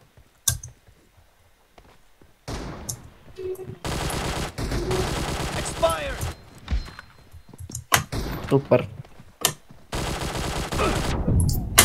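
Shotgun gunfire in PUBG Mobile, several loud blasts and bursts of rapid shots with thuds between, up close in game sound, a voice briefly speaking.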